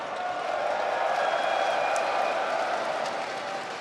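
A large arena crowd at the IEM Atlanta Counter-Strike event roars and claps in a steady, dense wash of cheering and applause, loud and sustained throughout.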